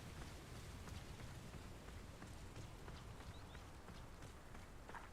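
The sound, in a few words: rain falling in the video game Hogwarts Legacy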